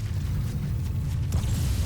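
A unit blows up in StarCraft 2, giving a dense, rumbling explosion that holds loud and steady for about two seconds, with a brighter burst near the end.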